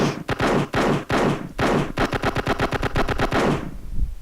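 Rapid automatic gunfire from a gun being tested in a Unity game, a few separate loud shots followed by a fast sustained burst of repeated bangs that cuts off near the end.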